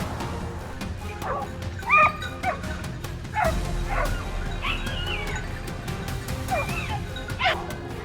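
Hunting dogs on a wild boar hunt in the field bark and yip in scattered bursts, with whimpering between, fairly close and loud, outdoors with no talk.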